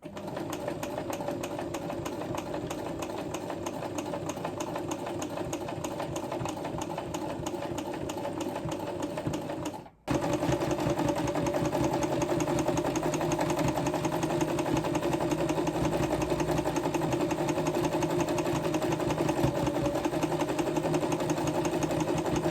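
A sewing machine stitches umbrella fabric in a steady, continuous mechanical whir. It stops abruptly for a moment partway through, then runs on at the same even pace with no talking.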